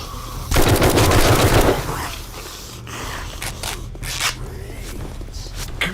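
A rapid burst of automatic gunfire from a gun in the zombie survival game 7 Days to Die, loud and dense for about a second, followed by scattered clicks and scrapes.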